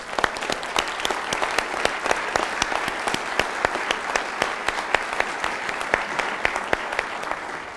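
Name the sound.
audience applause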